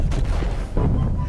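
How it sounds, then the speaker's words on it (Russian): Explosions in the air from the video game Garry's Mod, heard as a dense rumbling barrage of booms and cracks that fills the whole short stretch and stays loud. "Взрывы в воздухе."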